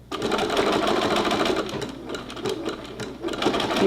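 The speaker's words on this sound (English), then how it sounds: "You just double back on your stitching." A sewing machine runs fast and close, stitching bias binding onto jeans in a dense, steady mechanical whir with slight pauses and restarts.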